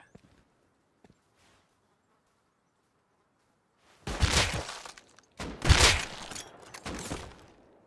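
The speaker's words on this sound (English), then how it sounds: "they're shooting, I think" Gunfire in the video game Rust: a few loud, sharp bursts of shots break a near-silent stretch partway through, with no talking.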